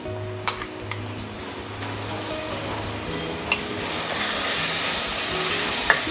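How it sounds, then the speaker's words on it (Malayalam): Masala spice powders sautéing in a pan for a fish curry: a steady, close sizzle with occasional scrapes and taps of a spoon stirring, gradually growing slightly louder and brighter, with no talking. "ഈ പൊടികളുടെയൊക്കെ ഒരു പച്ച ടേസ്റ്റ് മാറുന്നത് വരെ നന്നായിട്ട് നമുക്കൊന്ന് വഴറ്റിയെടുക്കണം"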